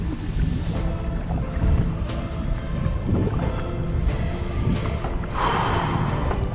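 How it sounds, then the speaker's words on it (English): Gusty outdoor wind buffets the microphone with continuous low rumbling and rushing air the morning after a windstorm, swelling and easing in irregular surges without any speech. "Bit of wind this morning."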